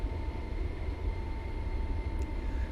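Steady low engine roar of a Boeing C-17 Globemaster III military airlifter in flight, heard from inside the aircraft, with constant broadband drone and faint tonal hums, no talk.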